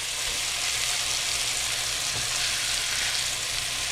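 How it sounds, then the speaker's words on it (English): Pork chops sear in a hot pan, a dense, even sizzle that holds steady and close for the whole stretch, broken only by a faint thump near the middle, with nobody speaking. "let's give that a minute and let them sear"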